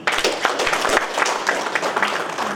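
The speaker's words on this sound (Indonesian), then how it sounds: "Tepuk tangan dulu." A room full of officials at a formal government cooperation event breaks into lively, fairly close applause, a dense patter of many hands that carries on steadily throughout.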